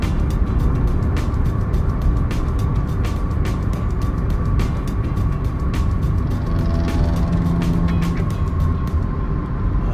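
Steady cabin drone of a Suzuki Baleno cruising on a toll road, its engine running smoothly under continuous broadband road and tyre noise, with no voices over it for the whole stretch.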